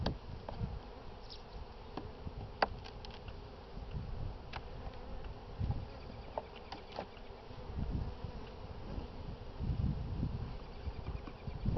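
Honey bees buzz around an open hive during a spring inspection, a continuous close drone with individual insects passing near, plus faint handling knocks now and then.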